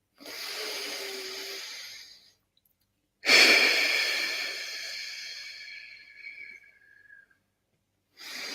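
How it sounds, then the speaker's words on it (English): Slow, audible breaths in and out during a guided energy-class breathing exercise: a long airy exhale, a pause, then a stronger breath that tapers off gradually, with another beginning at the end; close and fairly soft, no talking. "be conscious, aware when you're breathing in air, and be conscious, aware when you're breathing out air"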